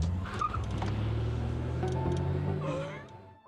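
Car pulling away in a horror film scene, a steady engine drone under faint chirps and incidental effects, fading off at the end.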